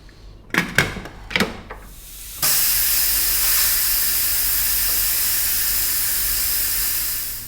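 A pressure cooker cooking beef stew lets out a loud, steady rush of hissing steam after a few sharp clanks, and the hiss holds strong for several seconds.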